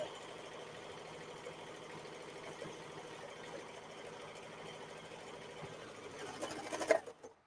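A home sewing machine stitches continuously at a quiet, steady hum that swells briefly near the end before stopping, as the bobbin runs out during cape making.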